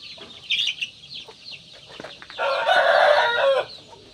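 Asil cross chickens on a farm: a few short clucks and scattered calls, then a rooster crows once, loud and close, over a quiet background.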